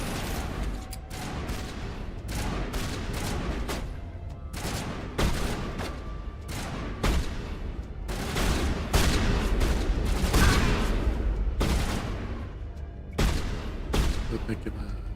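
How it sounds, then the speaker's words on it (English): Shotgun blasts in the video game Mass Effect come in quick, loud bursts through a busy firefight, with overlapping booms and brief gaps between volleys. "Let's try using shotgun."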